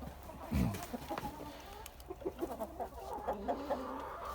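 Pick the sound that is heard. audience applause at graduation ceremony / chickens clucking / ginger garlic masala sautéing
chickens clucking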